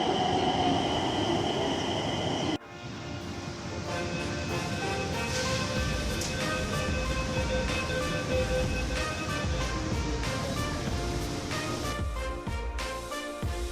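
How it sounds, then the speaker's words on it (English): A Nagpur Metro Orange Line train pulls into the station, its loud continuous rumble and wheel screech rising after a sharp onset and holding steady close by, with no talk. "So here comes our metro."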